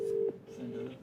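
A phone call being dialed at a stand-up comedy crowd-work show: a short, steady electronic tone, then softer lower tones, brief and close, with faint voices underneath.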